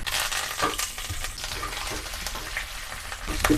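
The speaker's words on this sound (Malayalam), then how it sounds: "എണ്ണ ചൂടായാൽ അതിലേക്ക് 1/2 ടീസ്പൂൺ കടുക് ഇട്ട് കൊടുക്കുന്നുണ്ട്." Mustard seeds and dried chillies fry in hot coconut oil with a loud, close sizzle and scattered pops, stirred steadily with no voices.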